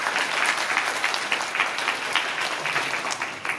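A hall audience at a ward-office song contest in Taisho, Osaka, gives a sustained round of applause, many hands clapping steadily at moderate loudness without talk.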